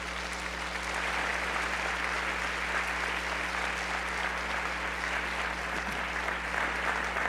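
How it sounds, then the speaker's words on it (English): Sustained applause from a crowd at a hospital groundbreaking ceremony, a dense steady patter of many hands clapping for several seconds at even loudness, with a low steady hum underneath. "I think that deserves a big round of applause."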